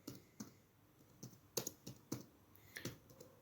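Quiet, irregular keystrokes on a computer keyboard as text is typed into an MS Word document, with soft clicks spaced unevenly and no voices.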